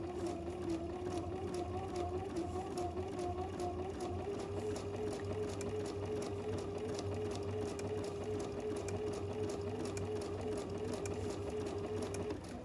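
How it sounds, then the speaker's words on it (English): A sewing machine runs steadily up close, top stitching through vinyl on a project bag, its motor producing a continuous whirring hum with a faint rapid needle patter and no breaks. "And I'm getting a really pretty top stitch on there."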